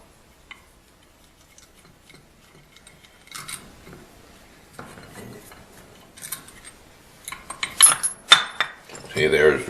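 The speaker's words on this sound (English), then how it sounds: "You just take these screws off the center section like that." Screws are taken out of the center section of an old two-section pump, producing close, faint metallic clicks, ticks and small clinks of parts that grow busier and louder toward the end; no talking.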